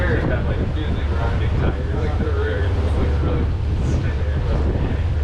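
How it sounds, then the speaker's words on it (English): A small ferry carries riders across a water gap on the Island Line Trail, its engine rumbling low and steady under heavy wind buffeting and nearby people talking. "unless you want to swim across that gap, you have to take this ferry"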